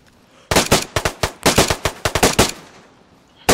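Loud bursts of gunfire in DayZ crack close by in quick clustered volleys, with brief gaps between groups and a final shot at the end.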